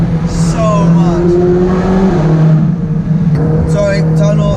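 Ferrari 458 Speciale V8 revving hard toward 9,000 rpm, a loud, sustained rising engine wail heard from inside the car, the pitch climbing and dropping back between gear changes.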